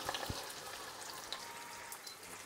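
Pork roast searing in hot olive oil in a roasting pan, a steady soft sizzle and crackle with scattered faint pops, fairly quiet and continuous throughout.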